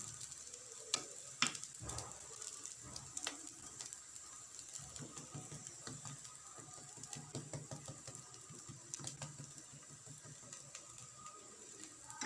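Pastries filled with suet and vegetables frying in hot oil, a faint steady sizzle with scattered small ticks and clicks, quiet and close with no talking.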